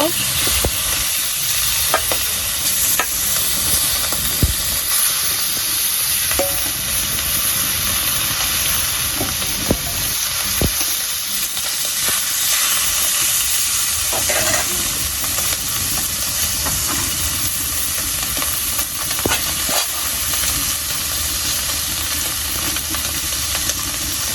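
Fish frying in hot oil in a wok, a loud, dense, steady hissing sizzle with scattered pops and occasional stirring scrapes throughout.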